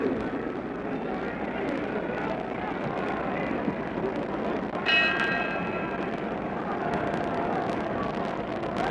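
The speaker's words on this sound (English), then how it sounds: "We're getting ready for the bell for round 2." A boxing ring bell sounds once for round two of the Muhammad Ali vs Ernie Terrell heavyweight fight, a bright metallic ring cutting through a constant roar of arena crowd noise.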